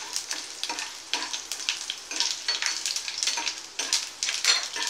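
Chana dal and broken dried red chillies fry in hot oil for aval upma, giving a steady crackling sizzle with small bursts of popping, fairly close and without speech.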